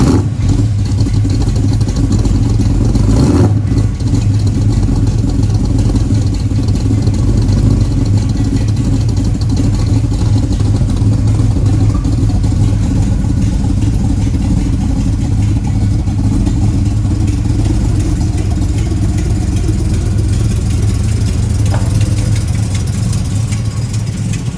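The engine of a 1968 Dodge Charger rumbles steadily and loudly throughout a test drive, a dense low drone with little change and a brief clatter early on.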